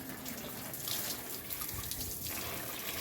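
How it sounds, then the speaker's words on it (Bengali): Bonsai banyan tree roots being washed in water, a continuous splashing and trickling with running-water noise and occasional drips, close and fairly soft, with no speech. "শেকড়টাকে সব ধুয়ে ফেলতে হবে"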